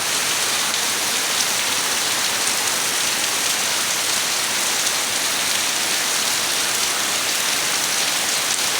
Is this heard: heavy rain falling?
yes